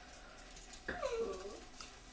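A dog whimpers close by, giving one thin, rising and falling whine lasting about half a second over quiet indoor background noise.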